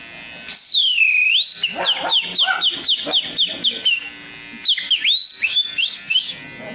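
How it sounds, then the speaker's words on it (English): A man whistles a bright tune, starting with a long rising-falling glide, then a rapid run of short chirping notes, pausing briefly before another glide and more quick notes, loud and close with no talk over it. "Do your best whistle."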